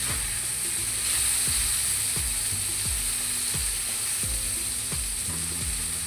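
Eggplant fries in an uncovered pan with a loud, steady sizzle and hiss. A spatula knocks against the pan in a regular series of sharp taps, with no voices.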